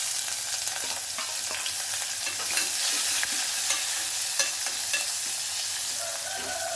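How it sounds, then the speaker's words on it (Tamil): Onion sautéing in a pan makes a soft, continuous sizzle, with light stirring scrapes and clicks scattered throughout. "நல்லா வெங்காயம் வதங்கட்டும்"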